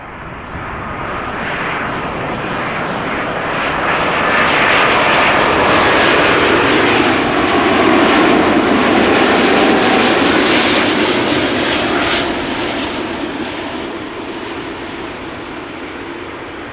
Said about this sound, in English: Those A330s seem to have been made to make smooth touchdowns